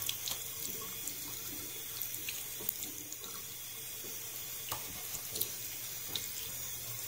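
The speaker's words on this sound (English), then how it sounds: "You're just going to rinse out your sock" Tap water pours steadily into a sink while a tie-dyed sock is rinsed out under it, a constant close splashing hiss with small sputters and drips, no voices.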